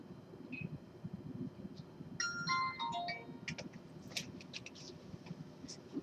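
A mobile phone rings with a short electronic melody of rising and falling tones, lasting about a second and a half over a steady low background hum, with no talking.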